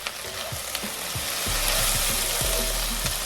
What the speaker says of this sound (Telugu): వేయించుకుందాము.